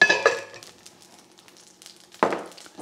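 A burger sizzling in a pan on a stovetop, with a burst of frying crackle at the start, a quieter gap with faint spatter, then a second sharp flare of sizzling near the end, close and clear.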